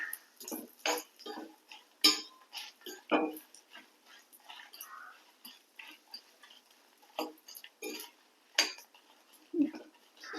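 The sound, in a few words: stirring spices and dried red chillies dry-roasting in a pan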